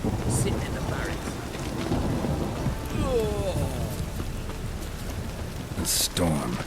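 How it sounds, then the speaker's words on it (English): Stormy weather in The Witcher 3 video game: steady rain and rumbling thunder fill the scene, with faint voices and a few sharp game sounds near the end. "A storm, damn it."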